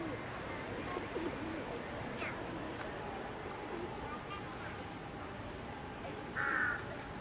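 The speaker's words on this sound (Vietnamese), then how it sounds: "Những con quạ đen nó kêu wow wow." Black crows caw in a park on the Chulalongkorn University campus in Bangkok. The calls are faint and scattered over steady outdoor ambience and wind, with one louder caw near the end, while people talk nearby.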